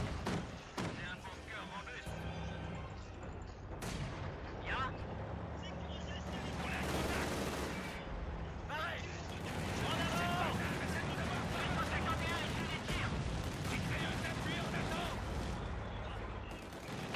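Repeated heavy gunfire and cannon blasts from a vehicle in a Company of Heroes 2 winter battle at Pripyat, with sharp reports and rumbling explosions running throughout under someone talking.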